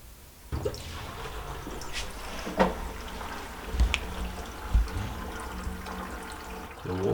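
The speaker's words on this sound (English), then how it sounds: "The water's draining." Water gurgles and drains away from a newly built sink through the waste pipe, with occasional knocks and clunks of plumbing over a steady trickling flow.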